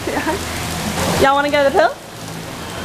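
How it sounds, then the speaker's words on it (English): Steady rain falls outdoors near a shop corner as a dense hiss, with people talking close by over it. "it just started raining"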